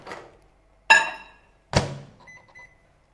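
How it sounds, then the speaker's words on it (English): Closing a microwave oven door and starting it to melt margarine, heard as a soft clunk, then a sharp latch bang, another thud as it starts, followed by faint electronic beeps in an otherwise quiet kitchen. "I'm just going to melt that in the microwave"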